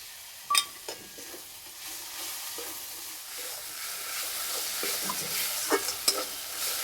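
Mustard paste and spices sizzling and frying in oil in a pan while being stirred for a pangas fish curry, with a steady hiss and a few sharp spoon scrapes and knocks against the pan.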